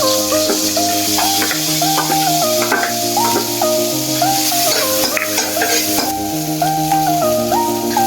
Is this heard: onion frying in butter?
yes